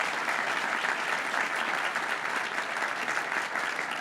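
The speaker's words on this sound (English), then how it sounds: "Can we give them another round of applause," Sustained audience applause at a quantum campus announcement event, a dense, even wash of clapping filling the whole stretch at steady loudness.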